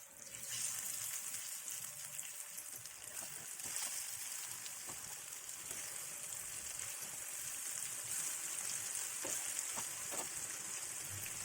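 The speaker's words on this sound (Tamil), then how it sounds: "எண்ணெய் சூடானதும் நம்ம எடுத்து வச்சுக்கிற வாழைக்காயை 1 by 1 சேர்த்துக்கலாம்." Raw plantain slices frying in hot oil in a pan give a steady, close hiss of sizzling throughout, with a few faint pops and small clicks on top and no talking.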